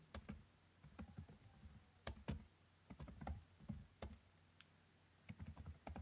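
Quiet, close typing on a computer keyboard while writing code, with irregular clusters of soft key clicks and short pauses between bursts.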